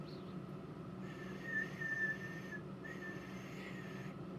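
A person whistles into the microphone of a Yaesu FT847 transceiver during a radio power test. Two sustained steady whistled tones are heard in a row with a short gap between them, fairly faint over a low hum.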